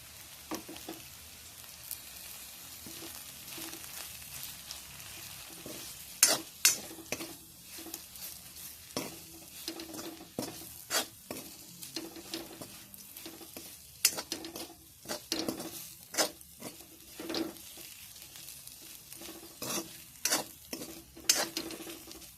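Ivy gourd (dondakaya) fries in a pan, with a steady soft sizzle beneath repeated scraping and clinking strokes of a spatula stirring the pieces at an uneven rhythm.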